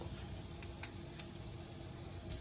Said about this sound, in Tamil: கொஞ்சம் சிம்மில் வச்சுன்னு வறுத்துட்டா கொஞ்சம் நல்லா வறுபடும்.